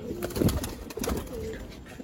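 Female pigeons cooing close by, a few soft throaty coos that rise and fall over roughly two seconds.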